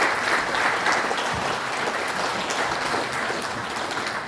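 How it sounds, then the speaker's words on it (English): Steady, fairly dense applause from an audience at a formal address by New Zealand Prime Minister Jacinda Ardern, even clapping throughout and no voices over it. "join me in a round of applause to honour those who have done just that"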